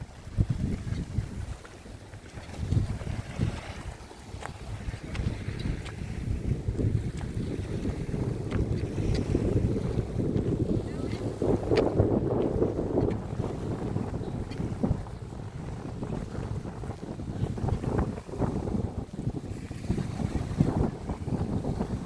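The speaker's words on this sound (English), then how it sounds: "it is windy today" Gusty wind buffets the microphone outdoors by a lake, rising and falling in uneven rushes for the whole stretch.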